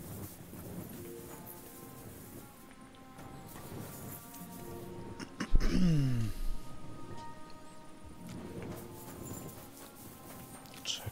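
Horse hooves clip-clop at a walking pace in the Kingdom Come Deliverance 2 video game, a soft rhythmic pattern under someone speaking, with a brief louder crash midway.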